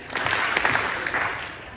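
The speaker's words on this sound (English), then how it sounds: "Clap twice if you can hear me." A crowd at a leadership conference and awards event claps on cue, a short dense burst of hand claps from many people that fades out within about two seconds.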